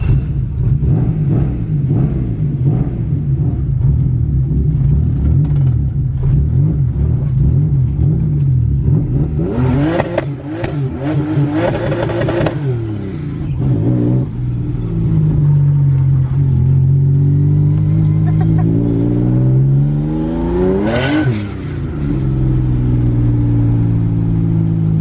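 A car on a street test drive after axle work, its engine rumbling steadily and close, rising in several revving surges as it accelerates, then easing back to a low hum.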